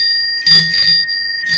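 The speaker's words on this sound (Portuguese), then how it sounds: "Ativa o sininho aí" A notification bell sound effect rings loud and clear with a sustained metallic tone, struck again partway through and once more at the end.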